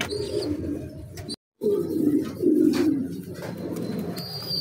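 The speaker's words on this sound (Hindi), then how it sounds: "अभी हम ले आए हैं जी ब्लैक का चिक्स जो हमारे पास अभी रह गया है" A young black fancy pigeon in a loft gives soft, close, low cooing and murmuring calls, briefly cut by a moment of silence.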